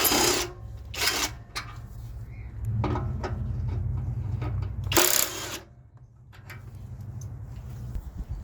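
A ratchet with a 12 mm socket loosens the heat shield bolts under a 2007 Scion tC, giving several short, sharp bursts of clicking separated by pauses, close by over a low steady hum.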